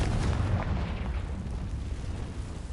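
A Confringo fire spell blast in the game Hogwarts Legacy, a heavy booming burst that rumbles low and decays over a few seconds, with no talk over it.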